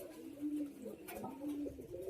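A pigeon coos softly from a rooftop loft, with repeated low, hollow coo notes in a gentle rhythm that are faint and close, with no other sounds.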